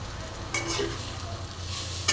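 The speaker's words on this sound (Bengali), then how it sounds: "এক চামচ ধনে গুঁড়ো দিয়ে দিচ্ছি দেখো ভালো করে আবার নেড়ে নেবো" Bitter gourd sizzles softly in a pan as coriander powder is stirred through, with bursts of spatula scraping over a low, steady frying crackle.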